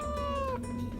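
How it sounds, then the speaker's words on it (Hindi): A single drawn-out cat meow, close and fairly quiet, sliding down in pitch over a steady low background hum. "ये बिल्ली की आवाज है।"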